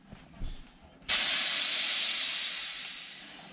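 A small kettle in a caravan builds to a loud, sudden steady hiss of steam, which continues strongly and slowly fades slightly over a few seconds.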